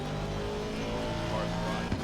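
A race car in a Spa-Francorchamps sim racing game goes by, its engine a steady, loud drone with a slight rise near the end.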